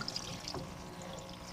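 Steady low wash of degreaser solvent circulating through a Harbor Freight 20-gallon parts washer, a soft continuous trickle and pour of liquid with faint splashes, moderately close and heard alone without talk.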